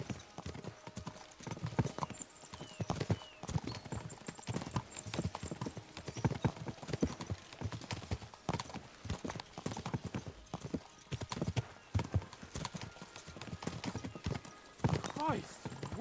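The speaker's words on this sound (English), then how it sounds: "We should spur the horses on." Horses gallop in the video game Kingdom Come Deliverance II: rapid, steady clip-clopping hoofbeats run throughout, with a whinny near the end and voices talking over the ride.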